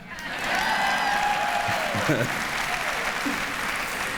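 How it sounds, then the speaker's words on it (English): Audience applause fills a school convocation hall, a steady wash of clapping from a large crowd that holds at an even level, with a voice briefly audible over it. "I thought I'd get an applause for that"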